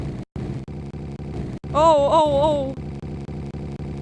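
Synthetic car engine from the 3D racing video game Zepto Racer, a steady, buzzy mid-pitched drone pulsing in regular chunks, with a rising and falling warble near the middle; a brief exclamation is heard.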